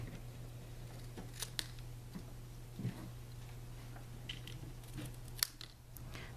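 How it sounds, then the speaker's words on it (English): Scissors cutting close around a stamped card piece at a kitchen table: sparse, quiet snips at irregular intervals, with a few sharper clicks over a low steady hum. "Now let's just snip this one out with scissors."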